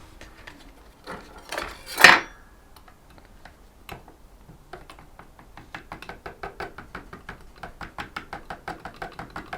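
Palette knife scraping and tapping as it stirs separated liquid white paint, a steady run of quick clicks and scrapes that builds into a regular rhythm, close and fairly quiet with no talking.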